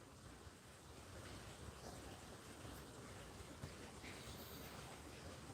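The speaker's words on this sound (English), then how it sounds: "it's freaking pouring. Can you guys hear that?" Heavy rain pours steadily at night in Da Nang, a dense, even hiss of falling water that fills the whole clip with constant wash and no voices.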